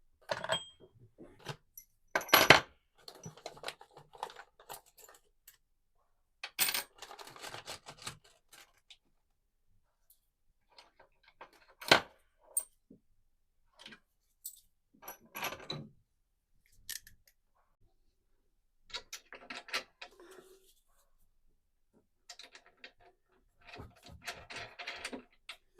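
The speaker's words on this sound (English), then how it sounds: "I've got one last bolt to put in, so I'm going to pop that in now" Bolt being fitted into an iroko bulkhead sandwiching plywood on a sailboat, heard as sparse, close metallic clicks, taps and scrapes in short bursts separated by quiet gaps, with no talking.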